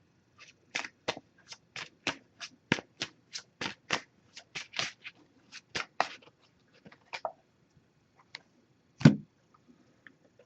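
An oracle card deck being shuffled by hand, a rapid series of crisp riffling bursts in steady rhythm that slows and ends with a final louder tap, quiet and close.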